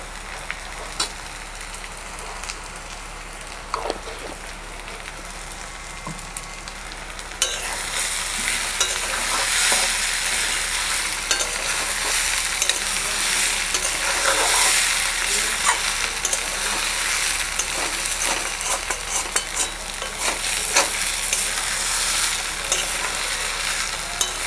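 Papaya pulao fries in ghee in a pan, with soft stirring scrapes at first, then a loud, continuous sizzle that swells up and holds steady while intermittent stirring clicks and scrapes continue.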